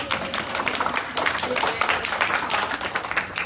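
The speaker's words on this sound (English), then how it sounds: "Give Abby a round of applause." Audience at a women's small business forum giving a round of applause, brisk clapping from a modest crowd with sharp individual claps, mixed with some murmuring voices.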